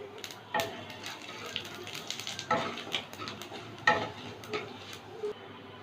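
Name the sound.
cumin seeds, bay leaves and dried chilli frying in oil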